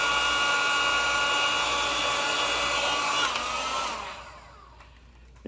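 A heat gun blows a loud, steady whooshing hum while shrinking heat shrink tubing, then winds down and fades away near the end, with no talking.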